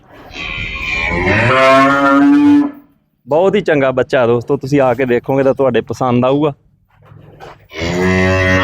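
A male buffalo calf lets out loud, drawn-out moos near the start and again at the end, and someone talks close by between the calls.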